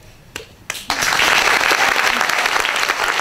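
An audience bursts into applause after a few scattered claps, a dense, loud wash of clapping that holds steady for the rest of the clip.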